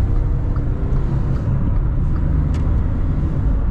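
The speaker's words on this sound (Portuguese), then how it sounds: "vamos dar um acelerão aqui, ó. Vamos ver como que ele tá pra andar esse carro aqui." A refurbished salvaged car's engine revs hard under acceleration, a loud steady low rumble that fills the whole clip with no talking.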